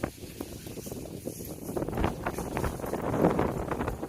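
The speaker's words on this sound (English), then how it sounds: "It's quite windy, so I hope you can hear me." Outdoor wind buffets the microphone on a nature walk, a loud, close, gusting rumble that rises and falls continuously, with no talk.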